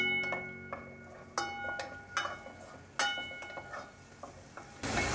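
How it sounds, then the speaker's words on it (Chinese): Tomatoes stir-frying in a tablespoon of oil in a pan, with a soft sizzle and a series of sharp spatula taps and scrapes against the pan, spaced irregularly. "番茄放进来炒香。"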